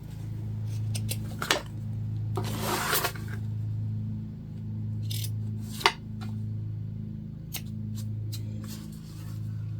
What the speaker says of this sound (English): We're going to cut off our excess elastic here.